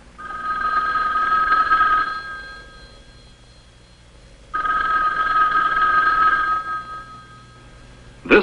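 A conventional telephone rings in a farm kitchen in 1960, giving two long, loud bursts of bright electromechanical bell ringing separated by a pause of silence, with a short sharp knock at the very end.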